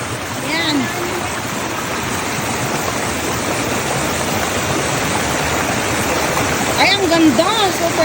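A mountain stream rushes in a dense, steady, close wash of flowing water, with voices talking briefly over it near the start and again toward the end.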